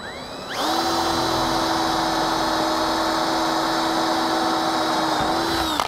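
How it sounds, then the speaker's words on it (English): A power drill starts up and whines steadily at high speed for several seconds, drilling into a soft aluminum roof rack foot on a two-door Ford Bronco, loud and close, then spins down at the end. "the foot for your roof rack is aluminum. It's pretty soft. It'll drill really easy."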